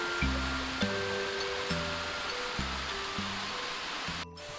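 Steady rushing water of a mountain waterfall and stream in Sibiseonnyeotang Valley, Seoraksan, fills the whole stretch, continuous and fairly close, with a low periodic rumble running underneath.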